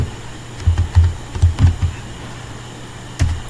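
Keystrokes on a computer keyboard while typing into a web browser's search bar, arriving in short clustered bursts of close, crisp taps with a pause before a final isolated press.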